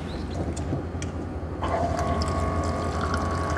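About 60 ml of pure water poured into a DIY sheet-mask maker: a low background hum, then a steady close pour with a rising, filling tone that starts partway through and continues to the end, with no talk.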